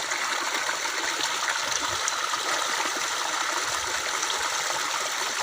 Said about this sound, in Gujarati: બીજી વખત આપણે મોટર ચાલુ કરી અને કુંડીમાં પાણી ચાલુ કર્યું